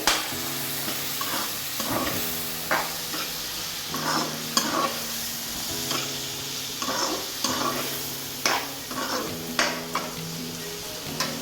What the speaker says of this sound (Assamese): এতিয়া ভালকৈ অকণমান আমি লাৰি দিম